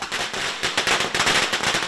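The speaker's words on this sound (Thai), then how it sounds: "เสียงประทัดที่ดังขึ้นกับโคมไฟสีแดงสดถูกประดับประดาบนถนนหลายเส้นของอำเภอหาดใหญ่" Firecrackers burst along a street in Hat Yai during Chinese New Year, a rapid, dense crackle of sharp pops that rattles on without pause and sounds fairly close.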